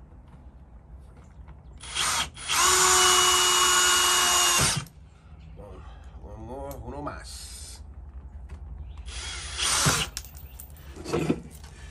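A power drill drives screws into wood while a storm door is installed: one long whining burst, then shorter bursts later, close and loud, with a person talking between them.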